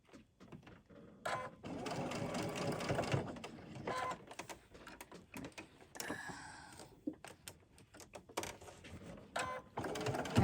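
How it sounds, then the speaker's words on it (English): A sewing machine stitches fabric for a quilted table runner in several short runs, a rapid mechanical whir broken by pauses and handling clicks, close and fairly quiet. "actually sewing it together"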